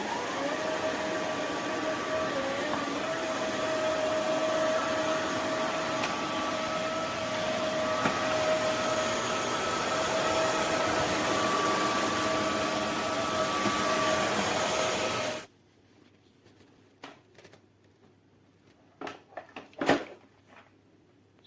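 Roborock F25 RT cordless wet-dry vacuum running on max mode: a loud, steady whine and whoosh for about fifteen seconds, then it cuts off abruptly, leaving quiet room sound with a few light clicks and knocks.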